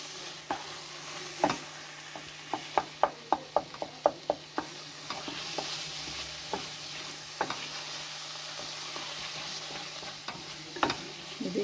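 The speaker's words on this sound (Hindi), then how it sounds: "इसके ऊपर खोए को मिक्स करेंगे।" Khoya being mixed into carrot halwa in a pan, a run of rhythmic spoon taps and scrapes against the metal over a low sizzle, loud up close, with quieter stirring later and no talking.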